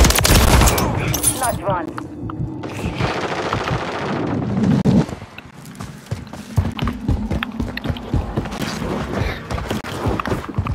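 Rapid machine-gun bursts and gunfire in the video game Call of Duty, dense and loud at first, then scattered sharp shots with clattering mechanical noises and hoof-like clip-clops, a voice briefly calling out.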